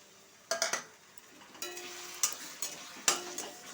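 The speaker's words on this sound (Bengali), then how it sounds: "দিয়ে মশলাটাকে কষাবো।" A spice paste of chili, cumin, turmeric and salt mixed with water fries in a pan for a paneer curry, a steady soft sizzle broken by several sharp scraping strokes of stirring close by.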